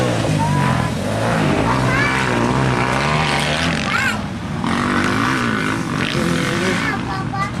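Honda CR 500 two-stroke motorcycle riding around a dirt track, its engine droning steadily with rising and falling revs at a distance while people talk nearby throughout.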